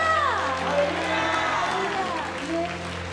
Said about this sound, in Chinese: 教会一起同声欢呼